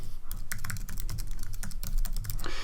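A username being typed on a computer keyboard for a remote SSH login, with rapid, irregular key clicks and taps in a close, continuous burst.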